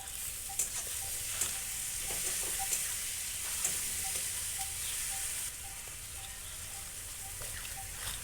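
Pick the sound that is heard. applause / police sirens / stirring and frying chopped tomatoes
stirring and frying chopped tomatoes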